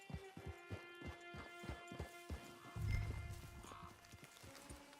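Horse hooves clip-clop in a steady walking rhythm in Red Dead Online, close and clear, then give way to a brief low rumble and a faint whinny-like tone over a quiet ambient hum.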